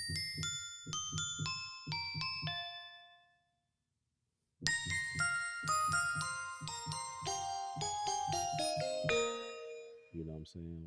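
Bright bell tones from the Peculiar Sounds plugin ring over a pulsing bass line in a short melodic loop, plays, pauses briefly, then repeats, clear and up front.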